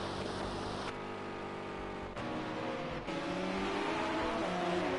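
LMP endurance race cars passing on a circuit during pre-season running, heard as a steady, distant engine drone with a couple of shifts in pitch as the cars go by.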